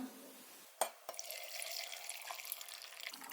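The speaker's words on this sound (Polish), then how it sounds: "Zalewamy naszą wodą z solą. Woda musi być przestudzona." Cooled salt water poured into a glass jar packed with beets: a faint clink, then a steady soft trickling and splashing of liquid into the jar, quiet and close with no talking.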